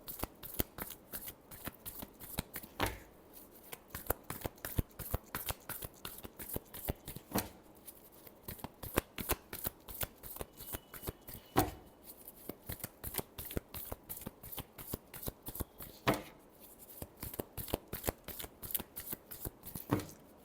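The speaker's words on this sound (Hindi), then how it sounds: "last shuffle" Tarot cards are shuffled by hand for a reading, making a steady run of quick, crisp riffling flicks with short pauses between bursts, close and fairly quiet, with no talking.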